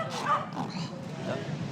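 A scent dog on a rat hunt in New York City gives short yipping barks and whimpers, close by and mixed with people talking.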